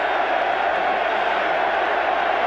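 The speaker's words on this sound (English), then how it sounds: "The crowd is chanting, "We want Perry."" A large football stadium crowd at a 1985 Monday Night Football game between the Packers and Bears chants, a steady, dense roar of many distant voices with no clear individual words.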